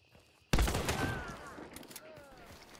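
A Caldwell Rival 78 shotgun in Hunt: Showdown fires a slug in a single loud, sharp blast that tails off into a long rolling echo, with faint game ambience behind it.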